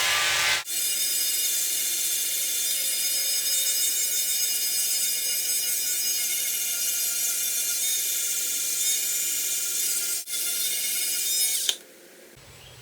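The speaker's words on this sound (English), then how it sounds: "Let's go ahead and sand this down. Start with this Multi-Max tool, get it down" A Multi-Max oscillating tool sands filler on a cracked steering wheel repair, giving a loud, steady high-pitched buzz close up that briefly dips twice before stopping.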